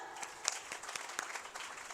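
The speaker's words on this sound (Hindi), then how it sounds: "उनके लिए तालियां" Faint, distant audience applause at a hymn release ceremony in Rattanabad, Mirpur Khas, a soft steady patter of clapping with a few sharper claps.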